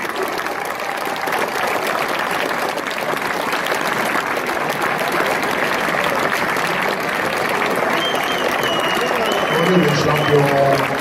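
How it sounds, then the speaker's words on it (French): A big crowd of supporters celebrating Reims winning the Ligue 2 title applauds in a long, loud, unbroken roar of clapping, with cheers mixed in and some voices rising near the end. "qu'on se fasse juste une petite séance d'applaudissements"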